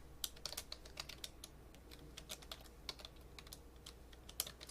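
Typing on a computer keyboard while working in Photoshop: quick, quiet key clicks in irregular bursts, fairly close, with no talking.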